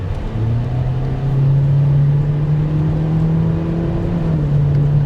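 A car with a CVT transmission accelerates hard, its engine droning close and loud in a steady, slowly climbing note with no distinct gear shifts, unbroken by speech.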